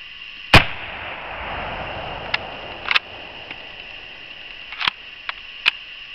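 A 1944 M44 Mosin Nagant carbine fires one sharp, loud report, followed by several fainter clicks and clacks from the rifle's action against a steady background hiss.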